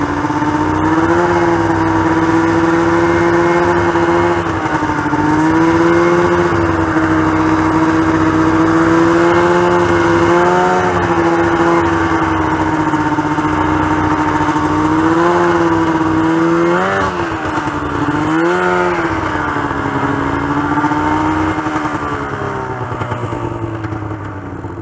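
A snowmobile engine drones loudly and continuously up close, its pitch rising and dipping as the throttle changes while running along.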